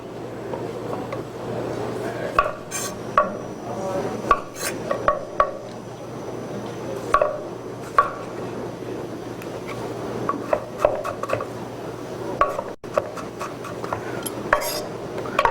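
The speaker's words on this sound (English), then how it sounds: "we're going to slice up some cucumbers" Cucumbers and tomato sliced on a cutting board, a scattering of soft knife taps and light clicks with faint kitchen clatter, close and moderately quiet.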